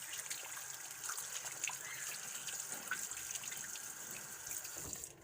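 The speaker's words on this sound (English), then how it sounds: "I'll wash my hands again." Tap water runs steadily into a kitchen sink while hands are rinsed under it, a close splashing gush with small trickles and clatters throughout.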